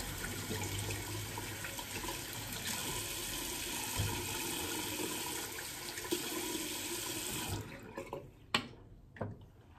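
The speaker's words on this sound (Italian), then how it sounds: "Iniziamo con il bagnare di ciuffo." Tap water runs steadily onto a shaving brush tuft in a sink, a close continuous splash that stops near the end, leaving a few scattered drips and knocks.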